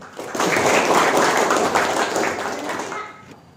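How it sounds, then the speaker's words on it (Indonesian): A classroom of students claps together in a steady burst of applause that swells quickly, holds for a few seconds and then fades, with no clear talk over it. "Kasih aplaus dulu."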